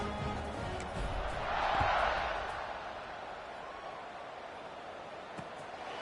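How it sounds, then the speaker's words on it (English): Crowd noise from a college football video game featuring the Tennessee Vols, a steady roar that swells briefly then settles into a continuous background murmur. "this crowd is buzzing after that last score"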